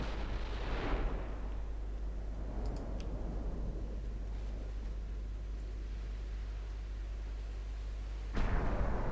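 Heavy warship cannon salvos, with 9-inch guns mentioned, in the naval strategy game Ultimate Admiral Dreadnoughts: a deep booming blast at the start rolls into a long rumbling decay, then a second sharp report lands near the end.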